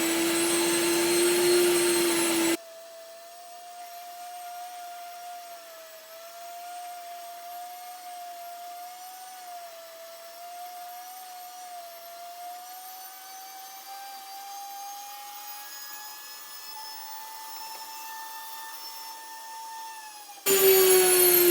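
Electric grain mill grinding wheat berries into flour, a steady loud motor whine holding a sustained pitch that drifts slowly upward toward a high-pitched scream, running alone without talk and ending abruptly.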